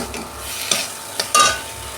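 A mustard paste vegetable dish with potato is sautéed in a pan, soft close sizzling punctuated by several distinct spatula scrapes and one sharp metallic clink.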